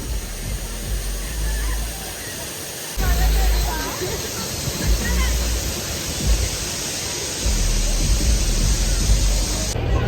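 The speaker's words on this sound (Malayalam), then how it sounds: "ഇനി അടുത്ത് നമ്മൾ ഇറങ്ങുന്നത് വാട്ടർഫോൾസിൻ്റെ ഒരു സൈഡിലേക്കാണ്" A waterfall roars as a broad, steady wash of rushing water, loud and close, with voices murmuring faintly beneath it.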